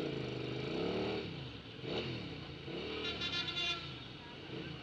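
A Hyosung GT650R sport motorcycle on a city test ride in Vijayawada, India, its engine droning and revving up and down at close range under wind and traffic noise.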